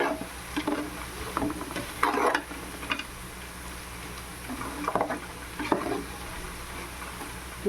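Onions and cashews frying in oil in a pan for prawn biryani, a steady close sizzle broken by bursts of stirring and scraping against the pan, no talk.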